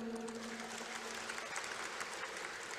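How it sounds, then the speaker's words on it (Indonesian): An audience at a public address in West Java, Indonesia, applauds in a soft, steady patter of clapping heard from a distance. "Coba saya dengar dulu tepuk tangannya mana?"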